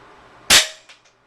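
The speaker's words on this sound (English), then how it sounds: "I'm just gonna load a pallet here, and I have my pallet trap set up here already, so I'm just gonna go ahead and shoot this really quick" An IZH Baikal 53M air rifle fires a pellet into a pellet trap: one sharp, close crack followed by two quick faint clicks as it settles.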